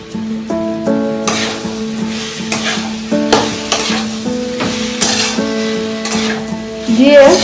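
Mango pulp filling for mango samosas sautés in a pan, with continuous sizzling and repeated stirring scrapes under steady background music.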